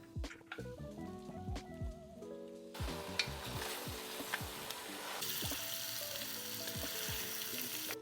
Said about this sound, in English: we're gonna brown our meat. This is about 2 pounds of pork shoulder, and then I like to add the pork short ribs